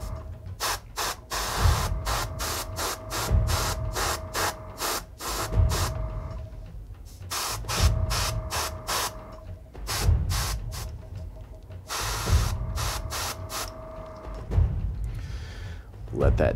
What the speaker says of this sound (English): So I'll tone these highlights down just by spraying right over them